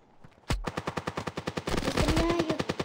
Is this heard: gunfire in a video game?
yes